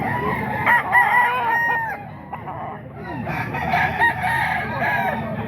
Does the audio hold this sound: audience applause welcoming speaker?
no